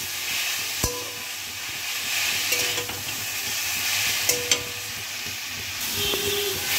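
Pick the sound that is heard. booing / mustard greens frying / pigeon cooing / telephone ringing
mustard greens frying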